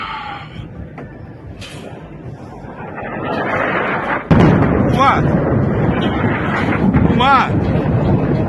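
Missile strikes hit Tehran, with a loud, sharp explosive boom landing midway through as news footage plays, followed by rumbling blasts and crowd noise, with voices talking throughout.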